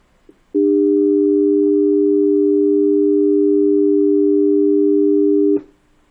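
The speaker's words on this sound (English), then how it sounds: "And if I do 300 and 400, you'll hear 2 frequencies here." Two steady sine tones at 300 and 400 hertz, played together through speakers while exploring intermodulation distortion, sound as one continuous loud chord lasting about five seconds before cutting off abruptly.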